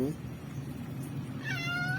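A thin stray cat meows, with a drawn-out call rising near the end of the moment while a person talks nearby over steady low background noise.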